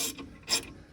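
A ratchet works a brake caliper bolt loose on a 1980 Chevy K30 pickup, giving two short, close, bright clicking bursts in quick succession.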